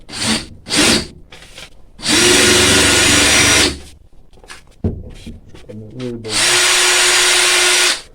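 DeWALT DT70620 shear attachment on a drill cutting paper, several loud whirring bursts of the drill, short ones at first and then two long steady runs, with crinkling paper and someone talking between them.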